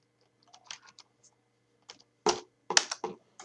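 FORTRAN code is typed on a computer keyboard, with scattered light key clicks followed by a few louder, sharper keystrokes close by in a quiet room.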